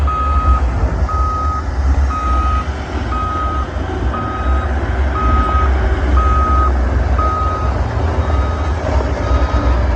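Reversing beeps from a loader truck at a demolition site, a steady run of evenly spaced tones over the constant rumble of heavy diesel engines, loud and close, lasting throughout with no voices.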